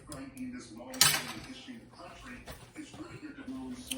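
A spoon stirs creamy cheese grits in a pot over a very low flame, with clinks and scrapes against the metal, one sharper clatter, and a voice murmuring underneath.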